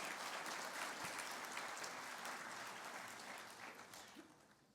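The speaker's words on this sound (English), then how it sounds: "This is the crowd behind me." A crowd at a union's annual congress in Kilkenny applauds steadily, a dense, faint clapping that slowly fades toward the end.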